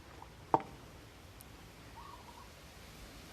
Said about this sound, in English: There's a dove by me that's making noise.